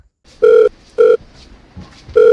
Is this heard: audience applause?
no